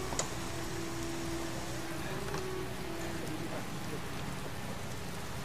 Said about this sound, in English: I really love this rain texture.